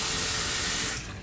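Mustard greens are washed under running water, a loud, close, continuous rush that eases off slightly at the very end.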